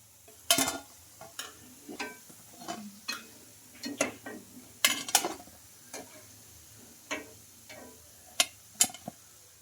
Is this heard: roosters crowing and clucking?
no